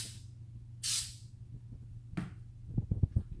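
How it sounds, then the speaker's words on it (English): A short, loud burst of white lithium grease spraying from an aerosol can, a single broadband hiss lasting about a third of a second, over a low background hum, with later clattery handling knocks. "Give it a shot of white lithium grease we got here"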